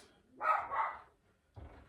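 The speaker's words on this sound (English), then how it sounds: "you're barking at nothing." A dog gives a couple of sharp barks close by, then a brief low rumble follows after a short pause.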